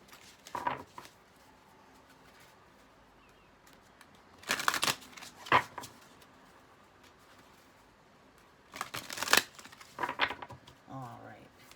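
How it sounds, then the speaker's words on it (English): A deck of tarot cards is shuffled in two separate bursts of quick papery riffling and slaps, close and fairly quiet, with a soft room hush in between. "let's give it a couple shuffles."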